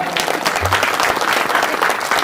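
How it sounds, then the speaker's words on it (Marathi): Men in a devotional kirtan audience clap loudly for the women, a thick, continuous burst of many hands close and full, sustained throughout with faint voices beneath. "यानंतर सगळे पुरुष टाळ्या वाजवतील महिलांसाठी जोरात"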